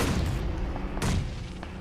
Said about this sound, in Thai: ระเบิดย้ำครับตรงนี้